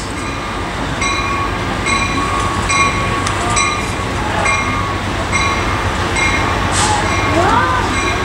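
A passenger train rolls past close by at Los Angeles Union Station, a loud steady rumble with rhythmic clicking and repeated tonal hoots, a brief wheel squeal near the end.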